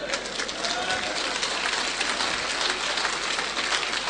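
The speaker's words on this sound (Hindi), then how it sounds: "तालियां बजा रहे हैं" Audience applause at a talk, a sustained wash of clapping at moderate distance, fairly even for several seconds, with voices mixed in.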